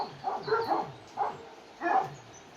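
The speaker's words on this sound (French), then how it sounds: "je me suis fait attaquer par 4 chiens errants là" Four stray dogs bark nearby outdoors in Sofia, Bulgaria, giving three or four separate, moderately loud barks at irregular intervals.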